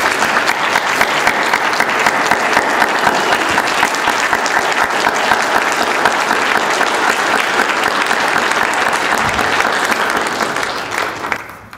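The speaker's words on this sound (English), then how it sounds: "let me give a round of applause to the survivors" Sustained applause from a rally crowd honoring survivors of sexual abuse by priests in New Mexico, a steady dense clapping that holds for about ten seconds before tapering off at the end.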